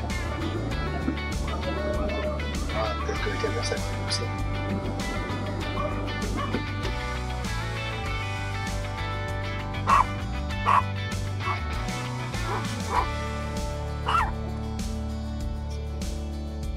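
Several dogs at work outdoors near Puerto Natales, Chile, give short yips and barks scattered over a steady low rumble, with a few sharper barks standing out near the end.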